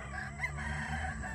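Rooster crowing on a chicken farm set among dragon fruit posts, a continuous fairly loud call lasting the whole short moment with no talk over it.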